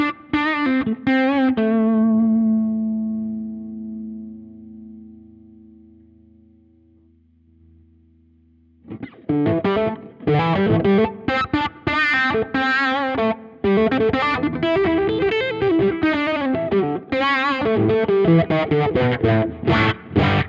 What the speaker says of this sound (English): Turn the touch wah on, try and get a quacky sound out of it.